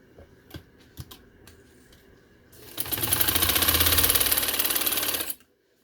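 Close, loud sewing machine stitching a blouse: a few faint clicks and taps at first, then a steady rapid mechanical whirr for about three seconds that stops abruptly.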